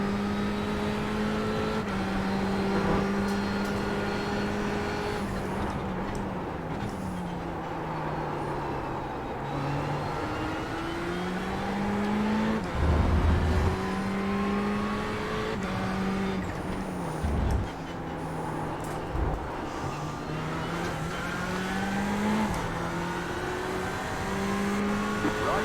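A GT3 race car in iRacing's IMSA series at Daytona roars past with a loud, continuous engine note that climbs in pitch and drops through gear shifts, layered with other engines and road noise.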